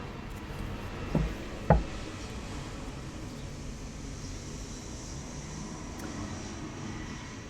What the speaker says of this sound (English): Just give me a moment for the plane to pass.